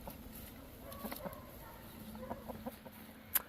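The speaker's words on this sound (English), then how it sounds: "watch and listen to the chickens" Wyandotte chickens cluck softly in short, scattered calls against a quiet background, with one sharper sound near the end.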